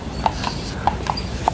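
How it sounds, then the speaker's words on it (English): Horse hooves clip-clop on pavement in Central Park at night, with several sharp, evenly spaced clops at a walking pace over steady background noise. "Well, there's the night horse."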